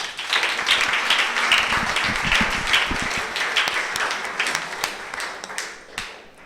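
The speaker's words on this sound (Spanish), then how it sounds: "Voy a darle un aplauso al Señor" A prayer-group congregation breaks into applause, a dense, steady patter of many hands clapping for about six seconds before thinning out at the end.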